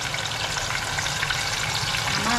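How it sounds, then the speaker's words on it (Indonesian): Chicken wings fry in hot oil with a loud, steady, dense sizzle that fills the whole moment, close up and without voices. "Langsung goreng gini aja."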